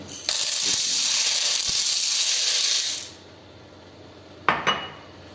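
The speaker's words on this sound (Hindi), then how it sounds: "उसके बाद हमने 1 कप जो है ना मकई का डालना है" Corn kernels poured into oil in a pan for stovetop popcorn make a loud, steady rattling rush for about three seconds, then quiet, then two quick metallic clinks.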